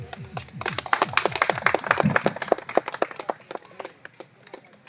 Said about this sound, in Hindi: ताली गुटे हो